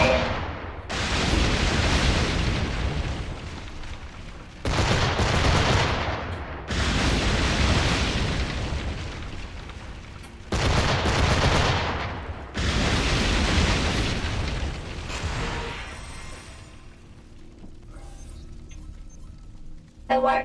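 Broadside cannon fire from a pirate ship in Assassin's Creed Black Flag, heavy booming volleys lasting several seconds each, repeated four times in close succession, then fading into quieter sea and ship ambience.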